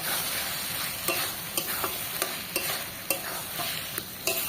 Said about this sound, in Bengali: চিংড়িগুলো দিয়ে আর একটু আমি কষিয়ে নেব।